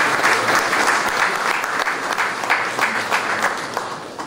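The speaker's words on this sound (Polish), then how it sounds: "brawa jeszcze raz." Sustained applause from an audience at a business gathering honouring local entrepreneurs, a dense, steady clapping that fills the room throughout without a pause.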